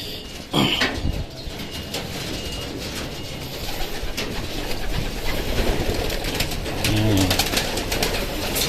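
Racing pigeons at a training and pooling loft in Sta. Rosa, Laguna coo steadily through a busy, noisy outdoor scene, with a burst of wing flapping as birds take off and fly out.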